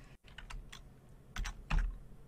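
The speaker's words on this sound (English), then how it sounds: "Let's type in V2022 in here." Typing on a computer keyboard while entering a preset search in Sapphire 2022 software: a short burst of several close, crisp key clicks with a couple of louder strokes, no voices.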